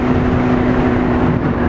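A Kawasaki Ninja 900cc motorcycle engine, just repaired, runs steadily up close with a loud, constant rumbling drone and a humming undertone, with no revving or pauses.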